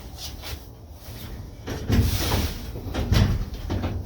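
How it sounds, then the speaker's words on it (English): A camper van's door is pulled shut from inside the back, giving a couple of sliding, thudding impacts close by over faint background rumble. "close the door behind me"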